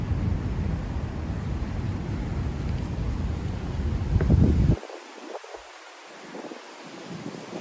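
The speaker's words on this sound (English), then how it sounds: "Man, that is wild wind." Strong wind buffets outdoors in Miami, Florida, as a loud, rumbling roar across the microphone that swells before dropping abruptly to a softer, gusting hiss.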